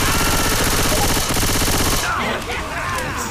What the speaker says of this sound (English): Let's try shooting zombies